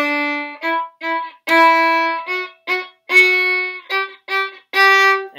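Violin plays the Suzuki Allegretto, with short bowed phrases of clear, bright notes. Each long note gets a heavier attack at its start and then sustains, and gaps separate the phrases. The instrument is close, clean and solo.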